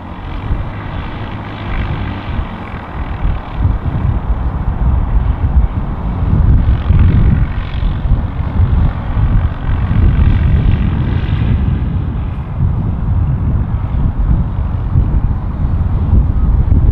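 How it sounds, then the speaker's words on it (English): An airplane powers up for a go-around in gusty wind at Manchester City Airport, a loud, continuous engine roar swelling over heavy wind buffeting on the microphone. "There's the power. Back up in the air."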